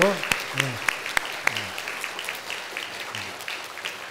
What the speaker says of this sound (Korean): 우리 격려와 사랑의 박수.